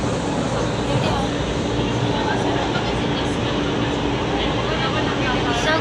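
Steady, dense rumble of a passenger train riding along in Cavite, heard from inside the carriage as a continuous broadband roar with no breaks, loud and close throughout.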